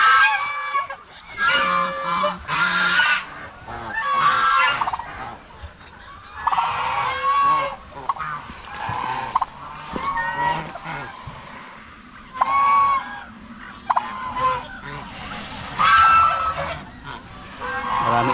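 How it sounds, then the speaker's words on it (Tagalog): Female turkeys in a farm laying pen call loudly and almost without pause, close by, in repeated honking, clucking bursts that overlap one another. "makita natin dito ng mga pabo na babae"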